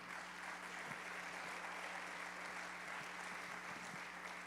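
Faint, steady applause from a church congregation, a continuous soft wash of clapping that stays at an even level without pauses.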